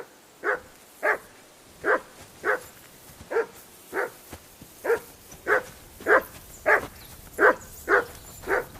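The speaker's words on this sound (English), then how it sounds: "Call off that damn dog" A dog in Kingdom Come Deliverance 2 barks in a steady, evenly spaced series of about fourteen sharp, moderately loud barks, with no talk over it.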